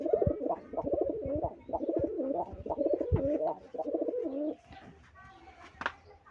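Rajshahi Giribaz pigeons coo close by in a run of repeated, rhythmic throaty calls, which thin out into a few scattered softer coos near the end.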